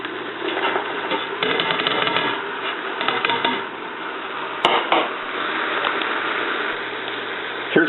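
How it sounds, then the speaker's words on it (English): Chopped peppers and onions sizzle in hot ground beef grease in a pot of homemade chili, a steady frying hiss with scraping and stirring clatter of a utensil against the pan. "we're going to use this grease to sweat our peppers and onions"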